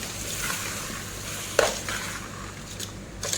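Rice being stirred and mixed in a pot, a soft steady scraping with a couple of sharper spoon knocks against the metal, close and fairly quiet with no talking.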